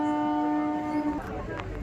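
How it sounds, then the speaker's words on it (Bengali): A local train pulls away from a station during the Rash festival in Santipur, its long steady horn blaring nearby, then breaking off into rumbling, clattering rail noise. "আবারও ট্রেন ছেড়ে দিল"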